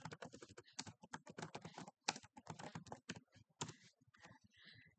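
Typing on a computer keyboard, close and clear: a rapid, uneven stream of key clicks with brief pauses, ending with a few slower taps.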